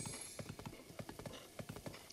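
Steady clip-clop of horse hooves at a brisk, even trot in Zelda: Breath of the Wild, moderately loud over a constant background hum.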